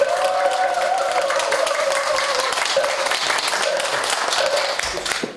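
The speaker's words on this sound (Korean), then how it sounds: "큰 박수" Sustained audience applause at a Buddhist temple ceremony, a steady wash of many hands clapping at close to moderate distance, with a faint tonal hum running underneath and the clapping thinning out near the end.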